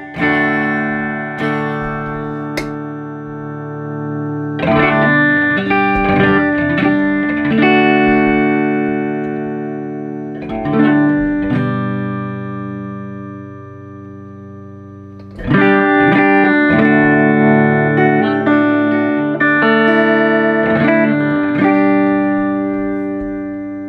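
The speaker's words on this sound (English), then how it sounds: "here is the Centavo from Warm Audio, running through a Fender Twin reverb" An electric guitar plays through a Warm Audio Centavo pedal into a Fender Twin Reverb amp, giving clean, lightly driven chords and picked notes in loud phrases with sustained ringing tails and pauses between them.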